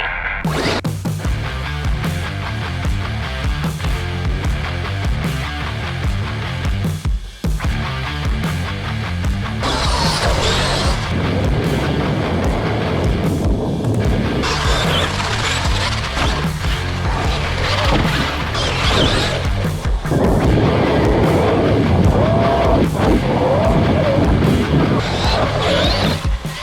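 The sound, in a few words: Traxxas X-MAXX RC car with Outcast 8S wheels driving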